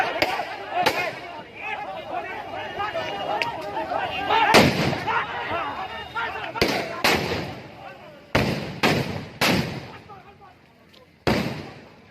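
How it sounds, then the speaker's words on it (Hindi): Gunfire during a clash between police and attackers, heard as a series of sharp loud bangs and cracks spaced irregularly over a noisy crowd background, with voices throughout. "जब गोलियां चलती हैं तो आप ही देखिए क्या होता है।"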